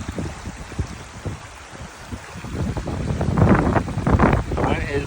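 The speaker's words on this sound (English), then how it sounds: "Yes, the wind is blowing." Wind gusting through an open park, rumbling and buffeting the microphone steadily, growing stronger toward the end, with a person briefly talking underneath.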